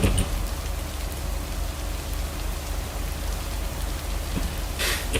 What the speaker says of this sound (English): I'm very much enjoying this rainy ambience that we have going on in the background